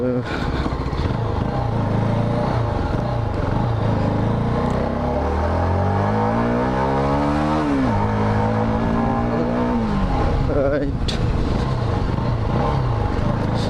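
A CFMOTO 250NK motorcycle engine revs in sports mode, a loud, continuous engine note that climbs steadily in pitch to a high rev, drops, then rises again briefly, with a voice talking over it.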